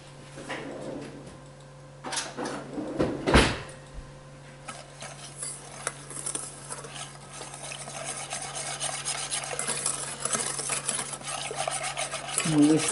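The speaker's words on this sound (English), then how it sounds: "And whisk that up." A cup of whole milk is whisked for a lime chocolate pie, heard as a soft, steady scraping swish against the bowl with a louder clatter near the start, and no talking.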